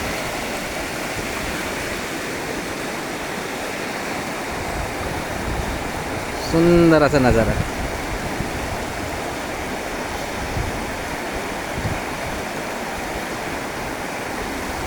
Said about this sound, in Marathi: त्या धबधब्याच्या ओहळ आहेत त्या सगळ्या.